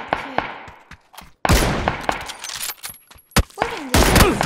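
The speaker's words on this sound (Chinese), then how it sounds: "后面有真的枪声呢" Gunfire in the video game PUBG, with sharp shots cracking out singly and in quick bursts between short silences. Some shots are near and loud, others more distant.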